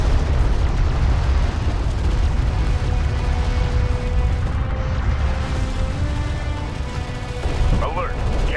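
A missile barrage in the Homeworld: Deserts of Kharak video game makes a constant rumble of booming explosions. Synthetic voice alerts sound over the noise.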